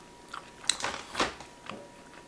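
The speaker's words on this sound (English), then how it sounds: "Okay, so let's take a bite." Someone bites into a vegan muffuletta sandwich layered with fillings and chews it, producing a few soft, close crunches and moist mouth sounds at low volume.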